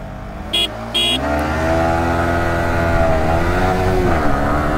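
A Yamaha R15 motorcycle in a drag race against a BS4 bike, its engine holding a steady, droning rev with rising and falling pitch, close by and loud throughout, with two short high beeps near the start.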